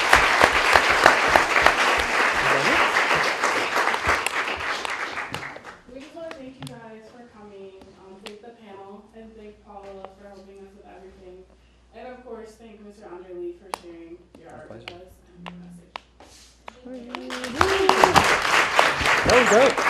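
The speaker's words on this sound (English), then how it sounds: "I wanna give a round of applause to you guys" Audience applause after an evening event, loud dense clapping for about five seconds, then speech, then another burst of clapping rising near the end.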